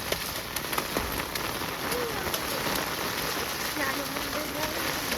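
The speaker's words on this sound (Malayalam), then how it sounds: "മഴ തോർന്നു വരികയാണ്" Steady rain pattering on surfaces all around, with scattered drips and faint background voices underneath.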